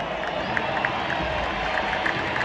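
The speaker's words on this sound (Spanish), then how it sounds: "Un aplauso de la afición de Jocoro a Faz y de Faz a Jocoro." Football fans at a Salvadoran league final applauding in the stands, a dense continuous crowd roar with scattered claps and cheers heard from within the crowd.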